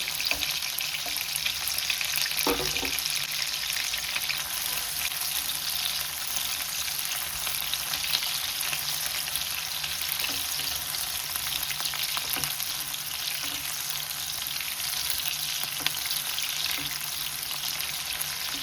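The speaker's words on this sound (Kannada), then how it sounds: "ಇವಾಗ ಈರುಳ್ಳಿ ಫ್ರೈ ಆಗಿದೆ" Green chillies and onions sizzle in a hot pan in a home kitchen, a continuous steady frying hiss with occasional stirring clinks, close and alone without talk.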